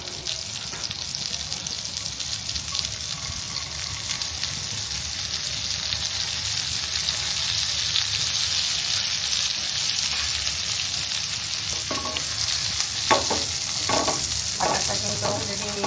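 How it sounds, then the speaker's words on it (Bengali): Butter sizzles in a pan on a stove, a constant crackling hiss that goes on without pause, with a few clinks and knocks toward the end. "চুলায় প্যানটা বসিয়ে দিলাম, দিয়ে দিলাম বাটার।"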